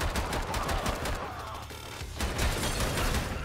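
Rapid pistol fire in the sci-fi shooter Bunker Punks, a dense string of loud cracking shots with a brief lull in the middle before the shooting resumes.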